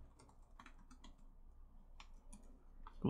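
A password being typed on a computer keyboard: a short, quiet run of irregular key clicks, close by, ending in one slightly heavier press.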